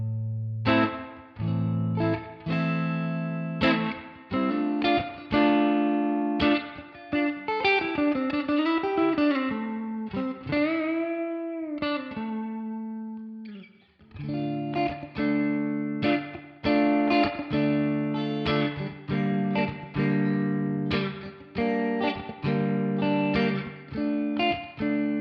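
Electric guitar runs through a Line 6 Helix using a Deluxe Reverb impulse response blending 57 and 121 microphones, playing sustained chords and melodic bends with effects and reverb, loud and continuous with no talking.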